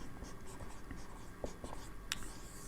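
Chalk or marker strokes on a board while chemistry notes go up, faint scratchy taps and short squeaks at irregular moments over a quiet room.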